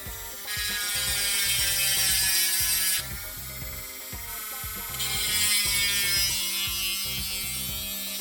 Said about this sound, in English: This is my little handheld Dremel. It's got a diamond drill bit on the end of it